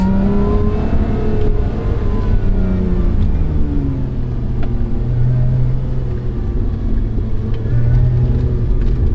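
Lotus Emira sports car engine pulling hard as speed builds, loud rising harmonic sweeps over a steady low rumble, with tones climbing through gear changes and no talk.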